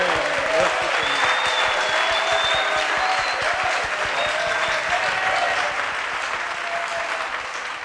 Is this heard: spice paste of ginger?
no